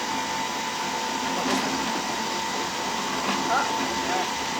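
A blender whizzes foraged garlic leaves with lemon juice and olive oil, a loud, steady motor whir that runs unbroken from start to finish.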